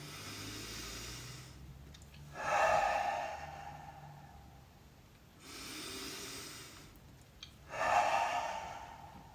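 Deep breathing during a face yoga exercise: two slow cycles of audible inhale followed by a louder, forceful exhale, close to the ear with quiet pauses between.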